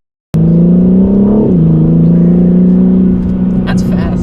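A 2021 BMW M3 Competition in M mode pulls hard with a loud, steady engine roar that builds and briefly dips before surging on, close up from inside the cabin, with faint voices near the end.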